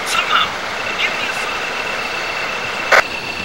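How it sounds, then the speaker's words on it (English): A short electronic beeping signal sounds in the Resident Evil video game, a single bright burst near the end over a steady ambient game hum, with faint earlier chirps. "What's that beeping?"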